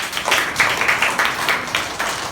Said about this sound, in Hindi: अच्छे बच्चों का ताली बजाओ।